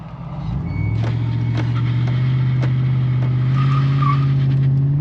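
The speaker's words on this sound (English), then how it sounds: "we're gonna push the brake as hard as we can down" A car in first gear brakes hard in an old Colorado, with a steady loud engine drone rising slightly in pitch and brief scraping tire noise. No voices are heard over it.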